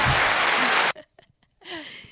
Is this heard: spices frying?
no